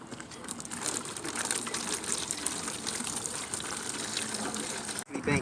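Water gushing from a garden hose into a container, a steady close hissing rush that cuts off abruptly near the end.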